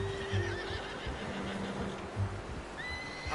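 A horse in the video game Red Dead Redemption 2 gives a shrill neigh with hoof clops, set amid faint game ambience, and a second whinny follows near the end.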